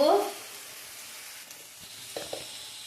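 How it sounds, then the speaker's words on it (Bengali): Spice paste for Bengali aloo phulkopi hits hot oil with a brief burst of sizzle, then fries quietly on lowered heat, with a couple of soft stirring clicks near the end. "আমি এখানে তেলের উপরে মশলাটা ছেড়ে দিলাম, গ্যাসটা কমিয়ে দিলাম, মশলাটা ভাজতে দেবো।"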